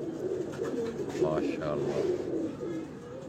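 Pigeons cooing softly in a rooftop loft at night, low throaty coos repeating close by beneath a voice.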